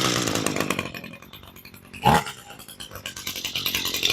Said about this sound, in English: That's what I like to hear in a weed eater.